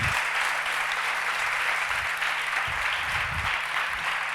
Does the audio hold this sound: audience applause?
yes